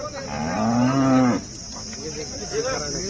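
A cow at the Sangola cattle market moos loudly in one long, rising call, followed by quieter market murmur and faint lowing in the background.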